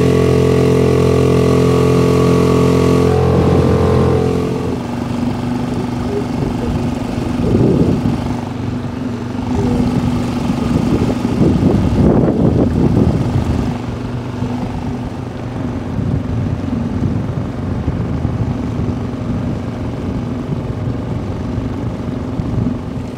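An outboard motor on an inflatable boat runs at full throttle, a loud steady engine drone that drops in pitch after a few seconds and continues with wind and water rushing past.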